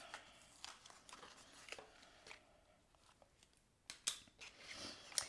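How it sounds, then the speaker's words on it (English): Scissors cut through card stock to remove the center section of a pop-up card, giving quiet close snips and rustles that are scattered, with a few sharper cuts near the end. "And get this center part cut out."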